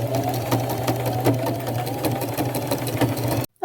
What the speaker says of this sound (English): I'll just go over it a few times with a zigzag stitch so that it's nice and durable